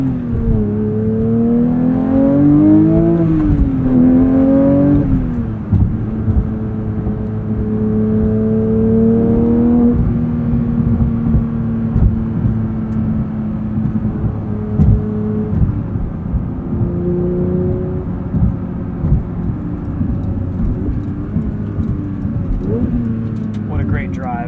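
A 2023 Porsche 911 GT3 with a manual gearbox being driven, its engine droning and rising and falling in pitch through gear changes, loud and steady from inside the cabin for the whole stretch.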